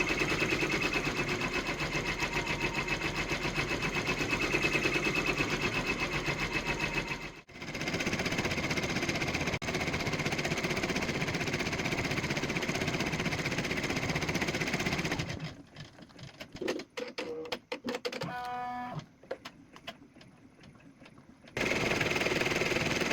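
A Brother PR1055X embroidery machine stitches a floral design on a heritage baby quilt, a loud, fast, steady needle clatter that pauses briefly, then stops and starts in choppy bursts before resuming, with no voices.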